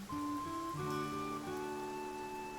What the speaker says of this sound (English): Alright, now it's started raining.